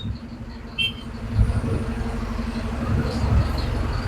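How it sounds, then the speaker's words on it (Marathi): A travel bus on the Nanded–Pune route pulls away from Kavatha, giving a steady, close engine rumble that swells slightly as it moves off, with faint road and cabin noise throughout. "चला, पुण्यासाठी निघालेली आहे गाडी कवठ्यातून."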